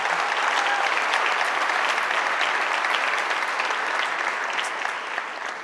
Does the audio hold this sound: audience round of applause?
yes